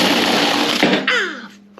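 A chainsaw basket attachment spins on an 18-volt cordless battery drill, giving a loud, steady whirring drone that drops off near the end with a falling pitch as it winds down.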